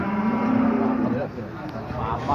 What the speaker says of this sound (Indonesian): seperti ini sapinya